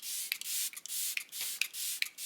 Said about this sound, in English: Now let's go ahead and use my setting spray to get rid of the powder.